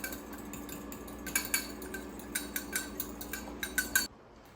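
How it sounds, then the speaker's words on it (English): A fork whisks homemade salad dressing in a bowl, giving a quick run of light, rhythmic clinks and scrapes that start soft and grow sharper before stopping abruptly, close and fairly quiet. "All you're gonna do after that is just whisk it with a fork and you have yourself a nice homemade salad dressing"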